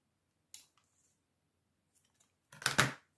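Scissors cutting material for a DIY Christmas candle decoration, a brief single snip followed later by a louder crisp cluster of close snips.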